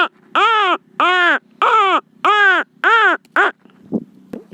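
A man imitates a baby crow's call with his voice, giving six loud, rhythmic, nasal caws in a row, followed by a couple of faint trailing sounds.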